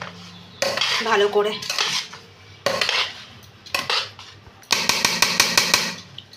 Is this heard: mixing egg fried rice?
yes